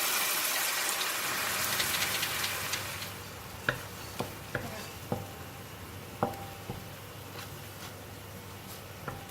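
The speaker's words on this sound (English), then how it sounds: "When the oil is hot, I'm going to put in the sambal." Sambal frying in hot oil for a four-angled bean sambal, a dense sizzle at first that settles into a steadier fry broken by several sharp crackles and pops, no voices.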